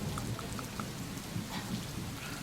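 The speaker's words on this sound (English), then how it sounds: "Fortunately, it's only rooms with rain." Steady rain ambience from a room in the point-and-click video game Gemini Rue, a constant dense hiss of falling rain with a low rumbling bed and scattered soft drip-like tones, even and unbroken throughout.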